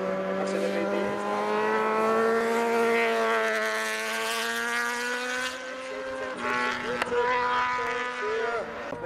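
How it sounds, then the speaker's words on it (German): A brand-new Yamaha R1 superbike screams up a hill climb course, its engine pitch climbing through the gears with a brief shift and rising again, loud and close at first, then fading slightly. "mit seiner Yamaha R1 ganz niegelnagelneu ist dieses Motorrad. Und so geht's los."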